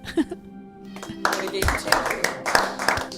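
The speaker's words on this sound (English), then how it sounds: "Slow clap." Deliberate hand claps ring out several times over about three seconds, fairly close and sharp, with a voice talking over them.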